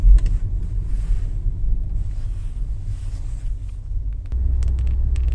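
Citroen Xsara Picasso 2.0 petrol automatic cruising at higher speed, a steady low engine and road rumble from inside the cabin with faint wind noise, swelling slightly louder toward the end.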